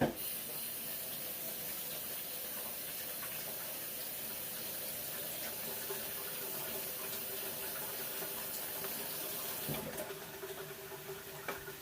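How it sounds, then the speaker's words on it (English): Tap water runs steadily over a potato at a sink, a constant close hiss and splash lasting about twelve seconds, with a brief clunk near the end. "I'm going to rinse off my potato real good"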